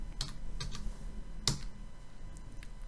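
Typing on a computer keyboard while filling cells in an Excel spreadsheet: a few quick, separate key clicks at close range, scattered irregularly over a low background hum, with no talking.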